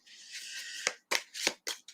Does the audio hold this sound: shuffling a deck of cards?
yes